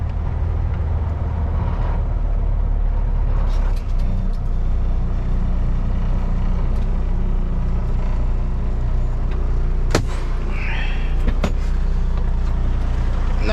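A truck pulling a spread-axle dry van trailer is maneuvered into a parking spot, its engine rumbling low and steady with a sharp air-brake hiss near the middle, close and loud, with no talking.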